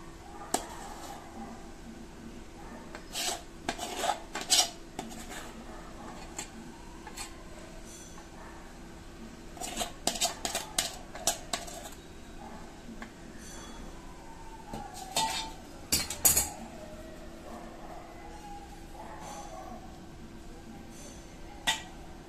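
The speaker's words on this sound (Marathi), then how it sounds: "पेल्याच्या किंवा ग्लासच्या साहाय्याने असं चांगलं मिक्स करून घ्यायचं आहे पीठ आपलं" Hot modak rice-flour dough is stirred with a cup or glass in a vessel, giving intermittent clinks and scraping knocks of metal and glass at an irregular pace over a faint background hum.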